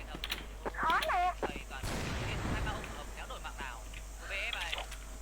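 In an online shooter video game, a grenade explosion booms once with a loud, sustained blast, while players talk over it before and after.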